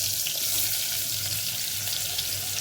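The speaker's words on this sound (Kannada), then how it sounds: "ಸರಿ, ಚೆನ್ನಾಗಿ ಹಸಿ ವಾಸನೆ ಹೋಗೋವರೆಗೂ ಚೆನ್ನಾಗಿ ಫ್ರೈ ಮಾಡ್ಕೊಳ್ಳಿ ಇದನ್ನು." Cut cucumber frying in a home kitchen pan, a steady, close, broadband sizzle that holds evenly throughout with no talk over it.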